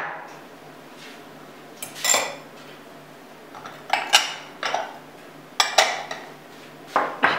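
Salad ingredients being mixed in a bowl, with a run of close, bright clinks and scrapes of utensil against dish coming in short irregular bursts over a quiet room hum.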